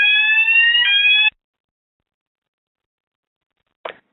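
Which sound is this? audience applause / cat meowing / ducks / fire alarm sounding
fire alarm sounding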